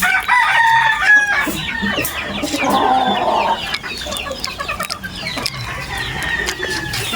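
Chickens in breeding pens cluck steadily while a rooster crows loudly nearby, with more crows and squawks from other birds overlapping throughout.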